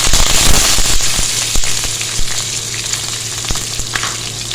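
Sliced onion fries in oil in a pot with a loud, crackling sizzle up close, punctuated by sharp spatters and stirring knocks, with a low steady hum underneath.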